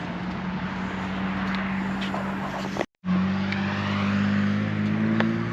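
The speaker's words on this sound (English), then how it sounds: "It's right by the road here, so nothing I can do about all the cars." Cars pass steadily on a nearby road, making a continuous loud traffic roar with engine hum and tire noise, broken by a brief silent gap midway.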